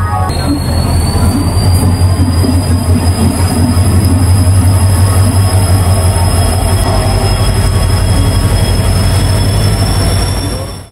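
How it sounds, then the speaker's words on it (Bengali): Tamralipta Express 12857 rolling into a platform at Howrah station, a loud continuous rumble of wheels on rails with a high steady squeal of braking wheels throughout, close by and unbroken. "অবশেষে আমাদের দিকে এগিয়ে আসছে 12857 তাম্রলিপ্ত এক্সপ্রেস। এই ঢুকছে হাওড়ায় 19 নম্বর প্ল্যাটফর্মে।"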